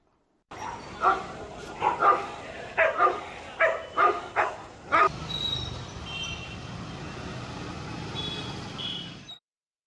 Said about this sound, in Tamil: சாலையில் சண்டையிட்டு திரியும் நாய்கள்